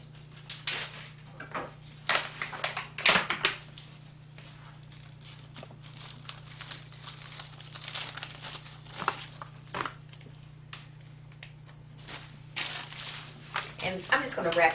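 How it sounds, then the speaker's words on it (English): Cooked eggs are wrapped in plastic bags by hand. Crinkling and rustling of plastic comes in bursts, with occasional light kitchen clatter, while someone talks throughout. "I'm just gonna wrap these up real fast, put them all in, and get them ready to go inside my refrigerator."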